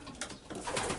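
Pigeons coo inside a loft of blue-coloured birds in a short, soft run of low throaty calls that overlap at close range, with no talking.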